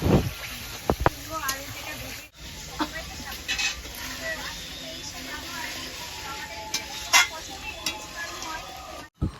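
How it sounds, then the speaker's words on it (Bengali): Mutton cooking in a pan, stirred now and then, with a steady sizzle and occasional scrapes and clinks of the spoon against the pan. "তো সেই মাটনটাই আমি এখন রান্না করে নেব"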